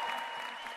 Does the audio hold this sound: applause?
yes